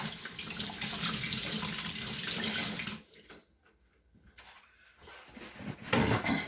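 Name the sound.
washing ginger under running tap water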